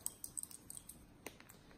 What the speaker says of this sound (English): So we'll shuffle this up.